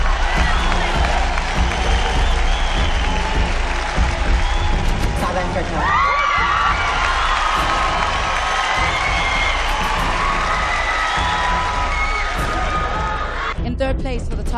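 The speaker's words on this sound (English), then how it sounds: "A round of applause, ladies and gentlemen, to Rwanda." Loud crowd applause and cheering at the Miss Heritage Global pageant as contestants are announced to the top five, with whoops and shouts over continuous clapping and an announcer's voice in the mix.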